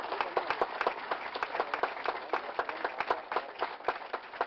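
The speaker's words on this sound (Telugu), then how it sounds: "ఆపకుండా ఒక నిమిషం కొట్టాలి" Continuous applause from an audience at an audio release event, with dense, sustained clapping at even loudness and sharp individual claps standing out throughout.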